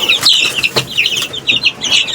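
Young chicks and chickens peck at one another in a backyard coop, giving a steady run of high, overlapping clucks and peeps at close range with no voices.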